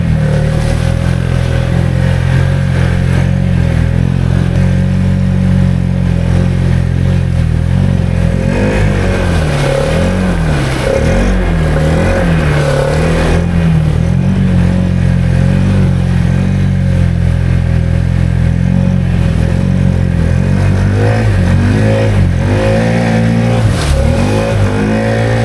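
A Can-Am Outlander ATV with an XMR700 gear reduction on 33-inch tires, its engine roaring loud and close at open throttle for a long stretch, the pitch wavering as the revs rise and fall, with no talking.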